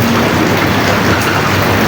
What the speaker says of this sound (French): vous avez bravé la pluie.